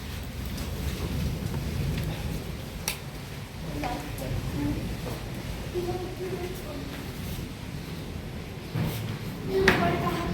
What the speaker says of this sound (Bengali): বৃষ্টির মধ্যে কিভাবে যাবে যায় না